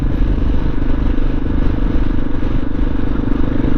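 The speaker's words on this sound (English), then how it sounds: "it's so fun to ride a thumper" A modern single-cylinder thumper motorcycle being ridden, its engine a loud, steady low-pitched drone with continuous rumble and slight clatter, close up with no pauses and no talk.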